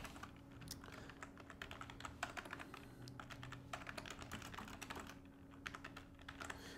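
Computer keyboard typing while entering paragraph text in a Notepad HTML file, a steady run of soft rapid key clicks with brief pauses over a faint constant hum.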